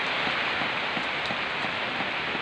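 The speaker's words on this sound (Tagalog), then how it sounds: "Daghan kay tulo among balay mga idol" Heavy rain on a house whose kitchen roof is covered with a tarp and leaks: a steady, loud hiss of downpour with faint, regular drips running beneath it throughout.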